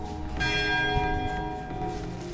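Church bells ringing in Lancaster, England: a steady wash of overlapping ringing tones at moderate distance, sustained through the brief moment with no voices.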